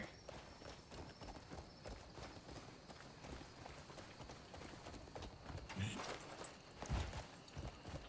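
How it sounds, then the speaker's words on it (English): A horse's hooves clip-clop in rapid, steady rhythm as it runs in the video game Crimson Desert, over a dense background of game sound, with a couple of louder thuds near the end. "Let's push the limits of this horse and see what it can do, eh?"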